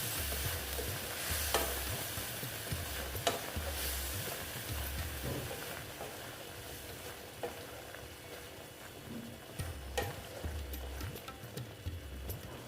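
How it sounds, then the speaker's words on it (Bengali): Salt and chili powder sizzle in a hot pan while being stirred and sautéed for a sesame pointed gourd dish, with steady frying hiss, periodic scraping strokes and a low hum underneath. "তারপরে দিলাম লঙ্কার গুঁড়ো দিয়ে এটাকে একটু ভালো মতন একটু কষিয়ে দিচ্ছি"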